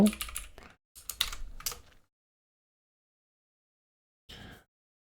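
Bursts of typing on a computer keyboard while writing Clojure code on Windows, with two quick flurries of clicks, then a pause and a short final burst, close and clear, no talk.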